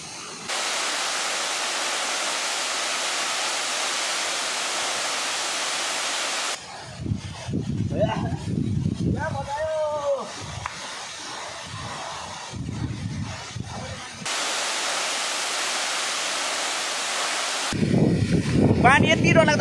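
Bar Changay waterfall at Martam, Sikkim, gives a loud, steady rushing roar that fills the opening seconds and returns later, dropping away while people talk in between.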